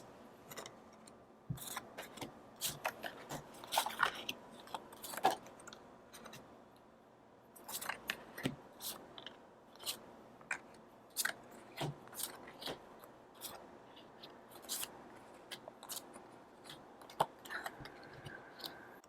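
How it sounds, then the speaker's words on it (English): Tarot cards pulled and shuffled from the bottom of a deck, soft close snaps and papery flicks in irregular bursts with quiet gaps, no speech. "Let's pull out the cards from the bottom of the deck."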